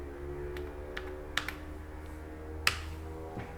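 Someone presses keys on a computer keyboard, producing a few sparse, crisp clicks spaced across a quiet stretch with a steady low hum underneath.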